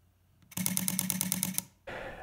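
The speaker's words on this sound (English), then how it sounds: "you press the shutter release and there's a burst mode" A DSLR camera shutter fires in burst mode, about a dozen rapid, evenly spaced clicks, then a short whir follows.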